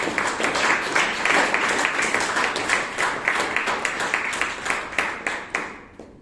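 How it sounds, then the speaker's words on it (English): Sustained applause from an audience, dense clapping that thins and fades out toward the end. "Please give all the guests a big round of applause"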